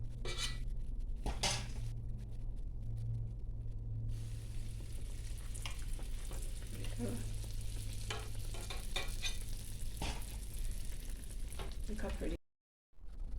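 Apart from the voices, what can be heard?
donuts (koeksisters) frying in oil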